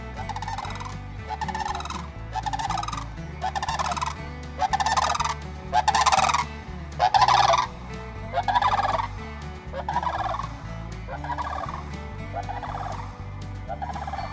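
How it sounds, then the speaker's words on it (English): Turkeys gobbling outdoors, a string of loud rattling gobbles repeated in quick bursts and overlapping one another, over a low steady rumble. "Beautiful birds."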